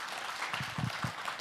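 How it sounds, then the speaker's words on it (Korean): Audience applause at a presentation, a short burst of clapping from a crowd, steady and moderately loud with no voices over it. "우리 박용규 대표님께 다시 한번 큰 박수 부탁드리겠습니다"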